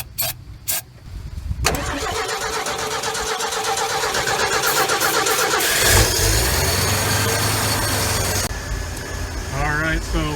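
A long-neglected 1968 Ford F100 engine cranks slowly for several seconds, then catches and roars into a loud, steady idle, close by with a person talking over it.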